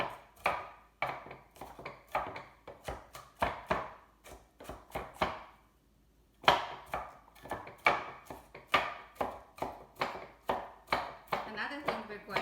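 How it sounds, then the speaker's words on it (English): A knife chops onion on a cutting board in a steady run of sharp, close taps, pausing briefly midway and then resuming at a similar brisk pace. "You want to chop it somewhat small, because you don't want big chunks of onion"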